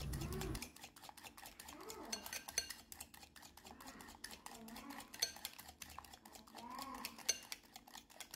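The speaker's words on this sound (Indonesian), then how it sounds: "mengocok gula pasir dengan telurnya kita kocok dengan cepat ya." Quick, steady metallic clinking and scraping as a utensil whisks sugar and eggs rapidly in a bowl, continuous and close, with faint background noise.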